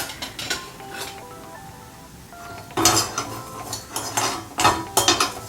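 Coriander roasts briefly over a low flame in a pan for sambar while a utensil stirs it, giving bursts of metallic scraping and clinking over a faint sizzle, busiest in the second half.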